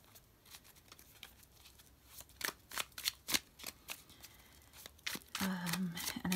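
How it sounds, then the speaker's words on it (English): A brand-new tarot deck is split by hand into three piles, producing a run of crisp card snaps and flicks at an uneven rhythm, close and fairly loud, followed by a brief voice at the end. "I'm gonna split these into three piles because it's a brand new deck, so it legit hasn't been shuffled before"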